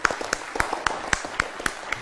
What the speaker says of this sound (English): Give a clap to Alize.